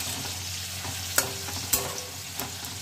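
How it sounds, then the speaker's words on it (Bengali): Radish greens fry in mustard oil with black cumin and a little salt, giving a soft, steady sizzle broken by three sharp clacks of a spatula stirring in the kadai. "দিয়ে শাকটা কিছুক্ষণ ভাজা ভাজা করে নেব।"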